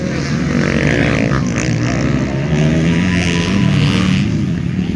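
A flat track racing motorcycle engine at a pro open competition drones loudly and continuously, its pitch wavering and rising slightly as the bike runs the track.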